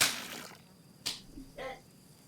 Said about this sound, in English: 2 claps and I missed it